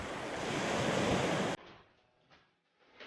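Pacific Ocean waves on a beach of Catanduanes island make a broad, loud roaring wash for about a second and a half, then cut off abruptly to faint wind.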